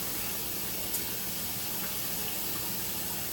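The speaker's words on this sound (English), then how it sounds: "give me a minute to wash my hands" A kitchen tap runs steadily while hands are washed, an even, close hiss of water spraying into a sink for a few seconds with no talking.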